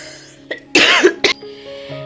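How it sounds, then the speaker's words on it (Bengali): A few harsh coughs and throat-clearing from someone suffering a bad cold, indoors and close to the microphone, a short cough near the start and a louder burst of coughing in the middle, then quiet. "এত পরিমাণে কাশি হয়েছে যে কথা বলবো তাও বলতে পারছি না"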